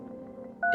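Telephone dialing tone in the video game No I'm Not a Human, a brief clear beep arriving at the very end after quiet low hum.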